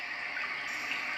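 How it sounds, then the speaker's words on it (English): A white noise machine plays a steady babbling-brook water track, with continuous hissing rush at an even level and no talking. "It's like a brook"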